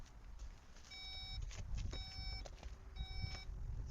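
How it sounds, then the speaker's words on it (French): A Skoda Octavia RS sounds its reversing warning: three evenly spaced bursts of short electronic beeps, moderately loud and clear over a low, steady background rumble. "Il y a le petit bip quand on recule."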